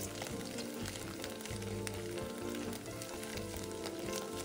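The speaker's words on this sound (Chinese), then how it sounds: "再将备好的香菇丁倒入，拉一拉油，这样香菇的香味更出来。" Diced shiitake mushrooms frying in oil in a wok, giving a dense, continuous sizzle that stays steady and close with faint stirring and no talk.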